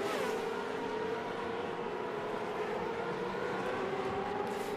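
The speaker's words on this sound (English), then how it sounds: "car coming in the pit lane, and it looks it is indeed Team South Africa" An A1GP race car entering the pit lane at the Euro Speedway, a steady, loud engine whine holding near and constant throughout.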